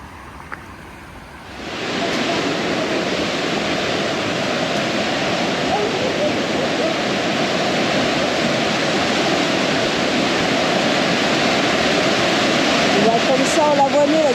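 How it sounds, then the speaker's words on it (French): A small waterfall pours steadily nearby, a constant broadband rush that begins abruptly and holds at an even loudness. "Petite cascade."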